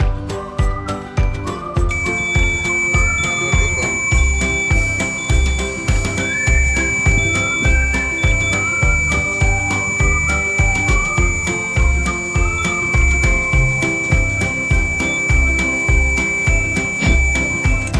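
A fire alarm system tied to a magnetic door lock rings continuously with a steady electronic tone and a rapid repeating bell-like pulse, loud and close, with no talking throughout.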